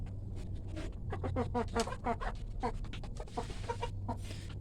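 Free-range village chickens cluck in quick repeated bursts close by, over a steady low hum, with some soft rustling between calls.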